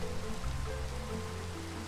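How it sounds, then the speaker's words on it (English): Steady rain falling in Minecraft, a soft, even wash of droplets that holds at a constant level throughout the short stretch with no voices. "oh no, it's raining"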